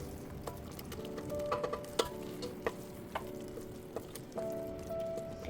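A spoon stirs spiced mushroom biryani gravy in a pan, giving soft scraping and a low sizzle with scattered clicks and taps against the metal, fairly quiet and without voices.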